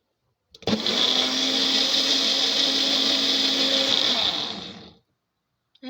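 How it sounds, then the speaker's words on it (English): A kitchen blender purees cilantro into a sauce, starting abruptly and running at a loud, steady whir for about four seconds before cutting off. "And let's put that in the blender."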